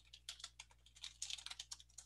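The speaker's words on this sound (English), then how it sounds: "I know I hear you typing away furiously" Rapid typing on a computer keyboard during an online robotics workshop, a quick irregular patter of faint clicking keystrokes heard alone over a low background hum.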